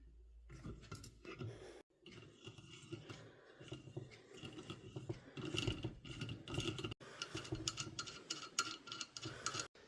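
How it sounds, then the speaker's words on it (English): Hand-tapping a thread into a hole in an old metal motor housing makes quiet, irregular clicks and scraping ratchet-like turns, close by and faint, with brief pauses between strokes. "So let's get that hole tapped."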